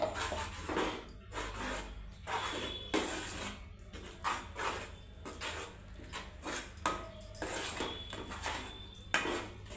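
Ground lentil paste for poornam boorelu is added to a bowl and stirred, giving a steady run of close, rhythmic scraping and clinking strokes over a low background hum.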